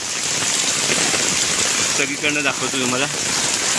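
Heavy, constant rain pours along Marine Drive in Mumbai as a dense, loud hiss. Someone speaks briefly over it partway through.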